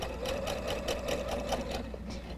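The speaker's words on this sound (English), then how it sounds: "And try to avoid sewing over any pins." A sewing machine runs steadily, stitching a quilt seam for a double wedding ring quilt, its needle making a fast, even, continuous whirring chatter throughout.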